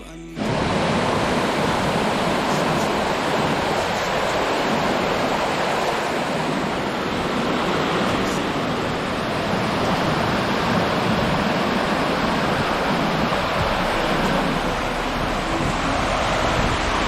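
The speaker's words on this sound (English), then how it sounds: "You can hear the Western Creek." Continuous rushing water of Western Creek near Western Creek Falls, Tasmania, roars steadily and loudly, a dense broadband wash of a fast creek close by with no voices.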